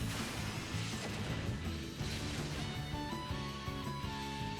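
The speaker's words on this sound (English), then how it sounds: "Was that not lightning?" A lightning attack crashes in the video game Bravely Default, a dense, loud burst of crackling impact noise layered over steady battle music, continuous through the whole stretch with no talking.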